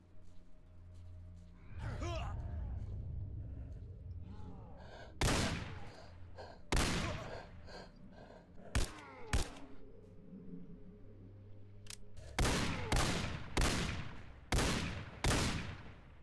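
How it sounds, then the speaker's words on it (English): Gunfire in Call of Chernobyl: sharp, separate shots over a low steady hum, a few spaced cracks first, then a quick run of five loud shots near the end. "Let's see who's shooting."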